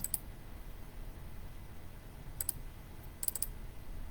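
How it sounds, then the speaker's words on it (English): Computer mouse clicking while editing a photo in Canva, a quick double click at the start and a few more short crisp clicks near the end, faint over quiet room noise. "we double click the photo now that it's here"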